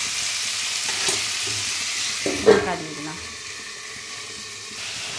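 Thinly cut, cube-like potato pieces frying in a covered pan, a soft continuous sizzle with a louder clatter and scrape near the middle, likely the lid or a utensil, then settling back to an even hiss.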